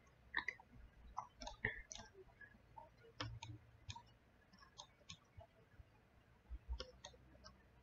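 A computer mouse clicks repeatedly during a software walkthrough, faint, sharp ticks scattered at an irregular pace against a quiet room.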